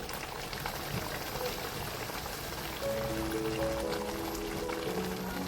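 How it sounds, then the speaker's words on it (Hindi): Large nargisi koftas, egg-stuffed Mughlai meatballs, simmer in gravy in a pot over a low flame, a steady close bubbling and soft spluttering with faint background tones. "लो फ्लेम पे पकने के लिए थोड़ी देर के लिए छोड़ देंगे, क्योंकि कोफ्ते बड़े हैं, इनको स्लो हीट पे पकना बहुत ज़रूरी है"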